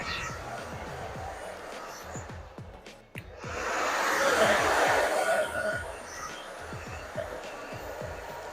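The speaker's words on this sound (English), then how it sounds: "so I just dry her hair" A hair dryer runs steadily during a salon haircut of an older woman's hair, its airflow swelling louder midway, with faint voices and light laughter in the background.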